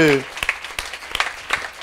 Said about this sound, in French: On peut applaudir Fabien Boucher, Nicolas Fabier.